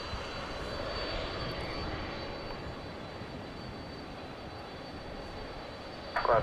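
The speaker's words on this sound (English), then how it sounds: "It's a 747-400 model, UPS." A UPS Boeing 747-400 cargo jet taxiing at night at Dallas/Fort Worth airport, its engines giving a steady, broad roar that holds at a moderate level throughout, with a brief louder burst right at the end.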